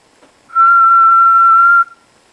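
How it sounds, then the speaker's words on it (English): A person whistles one steady, clear, loud note lasting just over a second into a MEMS microphone, with near silence before and after. "I'll give it a whistle."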